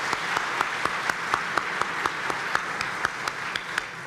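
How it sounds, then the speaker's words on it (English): Audience applause for volunteers at a riverfront community meeting, a steady wash of many hands clapping with distinct sharp claps popping out at an even pace, moderately loud and without speech. "I'd like to give them just a brief round of applause"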